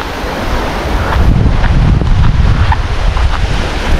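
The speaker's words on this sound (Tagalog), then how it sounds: "dahil malakas yung hangin" Strong wind buffets the microphone with a constant rumbling roar, louder after the first second, with water washing faintly underneath.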